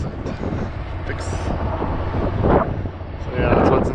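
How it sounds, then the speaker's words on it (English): Gusty wind buffets the microphone with rumbling bursts, and a person speaks over it. "It's a little windy."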